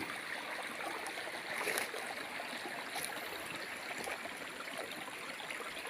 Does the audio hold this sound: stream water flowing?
yes